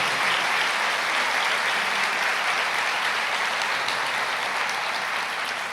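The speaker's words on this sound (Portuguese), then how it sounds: "Pode aplaudir o Senhor." Sustained, dense applause from a church congregation fills the whole stretch at steady loudness, a broad wash of many hands clapping together with no break.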